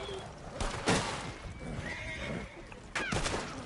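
A horse in the video game Red Dead Online whinnies twice, loud and close, the shrill neighs separated by a couple of seconds over a busy background of rumbling ambience.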